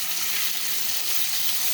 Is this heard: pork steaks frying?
yes